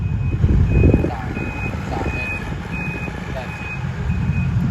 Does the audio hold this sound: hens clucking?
no